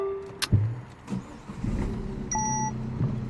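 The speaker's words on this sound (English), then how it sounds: "I'm going to actually start the engine immediately." A Peugeot 1.6 e-HDI diesel engine with a fault cranks and starts close by, a brief click and whir giving way to a steady low idle rumble, with a couple of short electronic beeps from the car.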